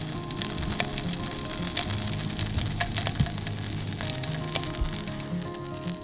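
Steady sizzling and crackling of meat frying in a pan in caribou fat at a backcountry base camp in Alaska, close and continuous, with no voices.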